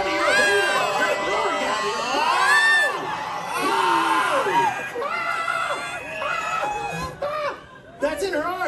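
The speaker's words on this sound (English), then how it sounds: "Everybody scream along with Gabby." At a theme park, a crowd screams together in a loud, sustained burst of many overlapping shrieks and whoops that swell, dip and rise again up close.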